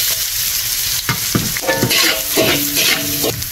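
Garlic frying in a hot pan for sisig, a loud close sizzle broken by quick stirring and scraping strokes of a utensil against the metal.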